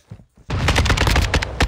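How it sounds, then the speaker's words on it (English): Shotgun fire in a video game bursts in after a short quiet moment with a faint voice, then a loud, dense volley of rapid reports continues to the end. "I'm buck hunting with this shotgun."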